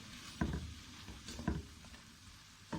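Mutton fries in oil after its cooking water has dried off, making a soft low sizzle punctuated by a few heavy thuds and scrapes of stirring, fairly quiet and close.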